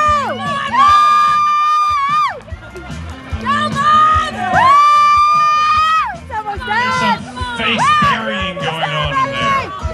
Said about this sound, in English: Come on, cheer for your favorites.